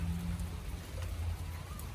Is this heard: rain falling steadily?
yes